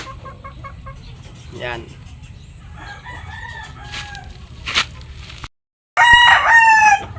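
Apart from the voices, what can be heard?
Sweater breed gamefowl chickens clucking and crowing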